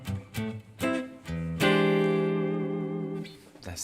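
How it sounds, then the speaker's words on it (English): A Stratocaster with a screw-in tremolo is played on the neck pickup, then switched to position 2: a few short plucked notes lead into a ringing, sustained chord that fades out. "that's the sound of a Strat, right? Neck pickup and then position 2."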